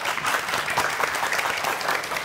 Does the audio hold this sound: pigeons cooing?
no